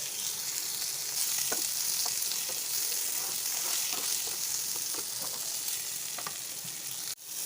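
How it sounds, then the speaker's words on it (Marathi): Onion and tomato fry with salt in a pan, giving a steady close sizzle with occasional soft stirring taps and no talking. "नॉर्मल सोनेरी रंग येईपर्यंत कांदा आणि टोमॅटो भाजून घ्यायचा आहे"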